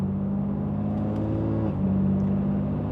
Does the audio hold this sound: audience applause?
no